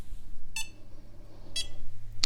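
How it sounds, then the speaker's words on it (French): A Weedo Tina 2 3D printer gives three short, bright electronic beeps at roughly one-second spacing over a low machine hum, close and clear. "On a un petit bip."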